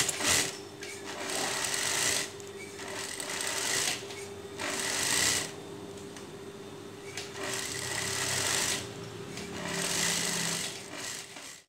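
A sewing machine stitches skirt fabric for a girl's dress, running in steady rapid bursts of several seconds with short pauses between, close and fairly loud with no talking.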